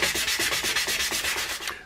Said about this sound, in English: I've been sanding away at this fan blade